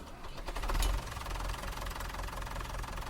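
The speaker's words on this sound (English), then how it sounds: "fire up that Massey Ferguson tractor, please." A Massey Ferguson tractor engine runs with a steady, close, knocking rumble that swells briefly near the start, then settles into an even idle-like chug.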